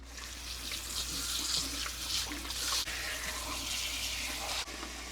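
Corned beef is rinsed under a running kitchen tap: a steady, close gush of water splashing over the meat, with slight shifts as the flow is disrupted and no voices.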